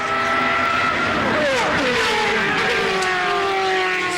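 A Formula 3000 race car screams through a pair of turns, its high engine note sliding down in pitch under braking and then climbing again as it accelerates away, loud and continuous.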